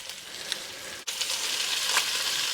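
Butter frying and sizzling in a pan, going slightly burnt: a steady close hiss with crackly pops throughout, briefly dropping out at one point before resuming just as loud.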